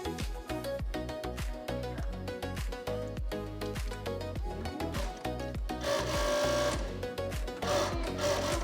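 A Union C5 coverstitch sewing machine stitching with only its two outer needles runs in a fast, steady mechanical rhythm, close and loud, with a brief higher whirring passage near the end.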